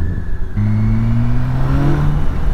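A 2017 BMW K1600 bagger motorcycle engine idles, then a quick throttle blip sends the revs climbing and falling back, loud and close.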